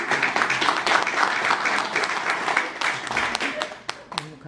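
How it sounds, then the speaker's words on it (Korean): An audience applauds during a Buddhist monk's talk on living a meaningful life, a sustained burst of clapping that thins and fades toward the end, mixed with some talking. "이 대목에서 한 번쯤 박수라도"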